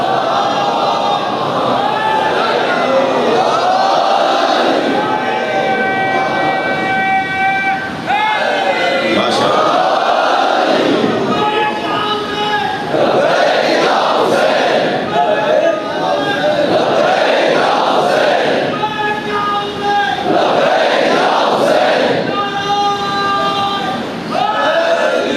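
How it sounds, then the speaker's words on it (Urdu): A large crowd at a Shia majlis chants salawat and slogans loudly and continuously in rhythmic unison, with repeated rising phrases over a dense roar of many voices. "باہر سے بھی کوئی صلوات اور نعرے کی آواز آنی چاہیے نا"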